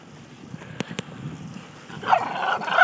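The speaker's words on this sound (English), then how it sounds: "What you barking at, Skully?" A dog barks outdoors near water, two sharp barks early, then a rougher, louder burst of barking or growling toward the end over quiet background noise.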